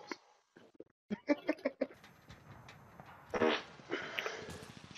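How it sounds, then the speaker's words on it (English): A few short, sputtering bursts in a quiet room, followed by a longer, rougher blat; faint rustling and murmuring sit underneath. "Did you just fart?"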